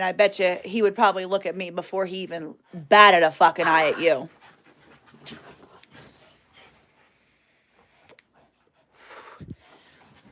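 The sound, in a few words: pet dogs playing and panting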